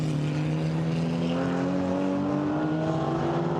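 A KTM GT4 race car accelerates out of turn 11 on a wet Hungarian circuit in rain, its engine a steady, close, sustained drone with harmonic whine over constant road and spray noise.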